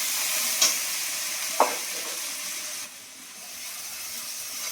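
Ginger and green chilli sautéing in a pan with turmeric, a steady close sizzle broken by two sharp scraping stirs, then the frying settles slightly quieter.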